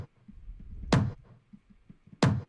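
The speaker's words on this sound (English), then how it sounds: "It's just quite a reverberated tom impact sound." Resampled, heavily reverberated tom impacts in a bass house production, two loud booming hits about a second apart, each with a sharp attack and a washy tail, over a faint low background.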